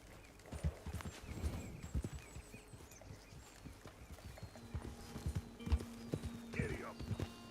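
Horse hooves clip-clop steadily as a rider moves along in Red Dead Redemption 2, with an occasional whinny and a voice speaking over the uneven, moderately close hoofbeats.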